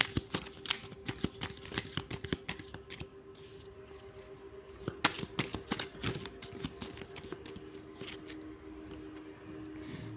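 Tarot cards are shuffled by hand in an irregular run of close, sharp riffling taps that drop off midway and then pick up again, over a steady background hum, with no talking.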